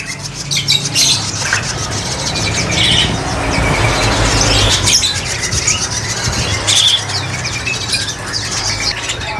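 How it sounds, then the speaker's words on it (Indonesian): A white-eyed male Javan myna (jalak kebo) calls with loud, harsh squawks and chirps, repeated in irregular bursts over steady background noise, close to the listener. "yang dipegang ada jalak kebo. Jalak kebo mata putih, jantan super."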